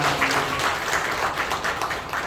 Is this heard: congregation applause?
yes